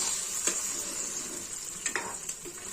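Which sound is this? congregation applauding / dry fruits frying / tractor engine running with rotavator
dry fruits frying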